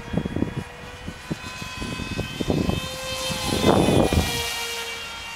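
A Kronik Jet RC plane flies overhead on a windy day, its electric motor giving a whining drone that rises and falls as it passes, mixed with gusty wind buffeting.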